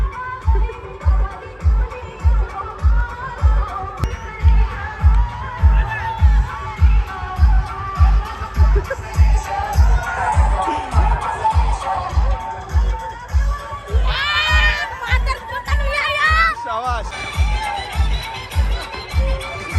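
A crowd cheers and shouts at the final celebration of a village cricket premier league in Kalambusare, over a steady thumping drum beat, with shrill whistle-like cries rising near the end.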